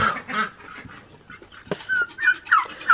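Guinea fowl on a farm call in short, harsh bursts, several loud squawking cries close by and spread across the moment, with a sharp clatter partway through and no talking.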